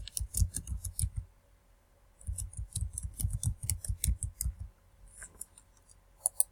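Someone types a password on a computer keyboard: two quick bursts of close, crisp key clicks separated by a short pause, then a few scattered final taps, with no talking.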